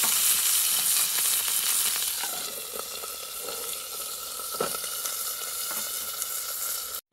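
Salmon fillets sizzle steadily in a pan over a backcountry camp stove, a dense, continuous frying hiss that eases slightly after the fish are flipped and slid around, with a few soft scrapes and taps.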